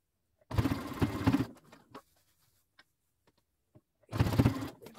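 A sewing machine stitches around a handmade leopard print fashion bag, running in two loud, steady bursts of about a second each, separated by a quiet gap with faint handling clicks.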